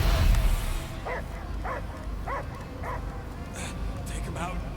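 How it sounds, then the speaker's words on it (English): A dog in Marvel's Guardians of the Galaxy video game gives a series of short, evenly spaced barks, five or six in a row, mid-distance over a low droning game ambience. "I hear only barking."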